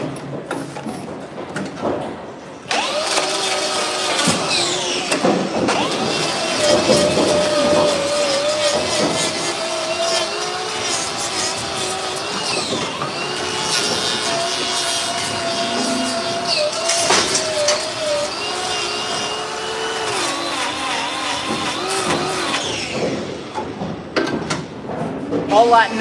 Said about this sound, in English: All that noise you can hear in the background, by the way, is cows being loaded onto a big wagon for transfer.